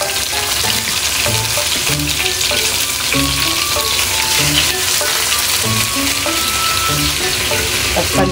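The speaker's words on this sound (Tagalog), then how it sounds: "Para natin siyang isiprito po." Stuffed squid (relleno) frying in a pan gives a dense, close, continuous sizzle with scattered pops and light stirring knocks throughout. No voices are heard.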